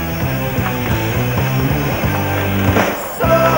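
A skateboard at a World Cup skateboarding contest rolls over a hump during an ollie leg grab, its wheel rumble and a brief landing clack sitting under loud steady music.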